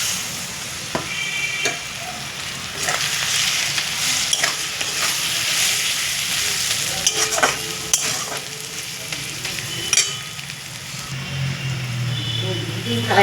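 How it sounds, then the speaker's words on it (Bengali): Eggs added to a pan of softened fried ingredients hiss and sizzle steadily, with scraping stirring strokes and small pops, close and moderately loud, under occasional speech. "এবার আমি ডিমটা দিয়ে দিচ্ছি।"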